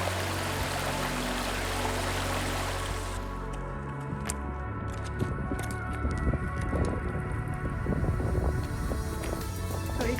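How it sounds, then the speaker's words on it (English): Stream water flowing near the source of the River Derwent below Scafell Pike in the Lake District, a close, steady rushing babble with splashing trickles, with low wind rumble early on. "Is this the source of the Derwent River?"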